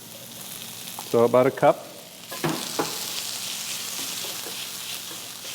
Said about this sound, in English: And now I'm going to add half the white beans